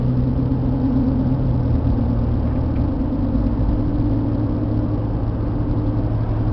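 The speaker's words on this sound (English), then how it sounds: "They're a little loud because they're knobby. So you get a little whine when you're driving." An Isuzu Trooper V6 4x4 on knobby tires cruises at highway speed, a steady low engine rumble with a faint, even tire whine running throughout, close and continuous with no voices.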